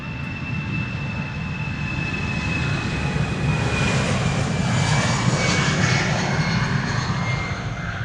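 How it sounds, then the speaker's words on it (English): An EasyJet Airbus A319 airliner departing Amsterdam Schiphol for Bristol roars steadily throughout, a loud, broad jet engine rumble with a thin high whine running across it and building slightly toward the middle, with no talk. "EasyJet A319 to Bristol."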